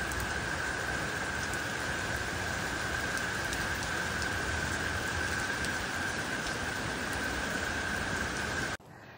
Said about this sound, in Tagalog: Johannes, it's raining.